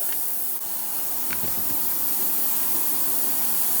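A short hissing spray burst from a rust remover spray bottle, followed by a steady hiss over a constant background hum, close up.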